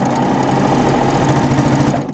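A serger stitches a 4-thread overlock seam on a quilt, trimming a sliver of fabric as it goes; a loud, fast, even mechanical whir sounds close and continuous, then slows at the end.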